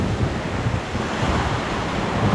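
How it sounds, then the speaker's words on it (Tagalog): Strong, rough sea waves in open water, a dense and continuous roar of surf with wind buffeting the microphone and no voices. "Ayan o, yung lakas ng alon."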